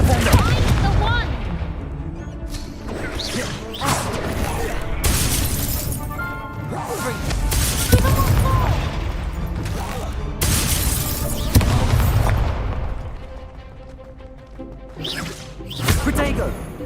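Confringo fire spells blasting in combat in the video game Hogwarts Legacy on PC, with repeated loud booms and crackling bursts amid continuous battle noise and dense game audio throughout.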